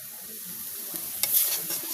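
Onion, ginger, garlic and cumin paste with turmeric and chili sizzles softly in a wok as a spoon stirs it, with brief scraping and clinks over a low, steady frying hiss.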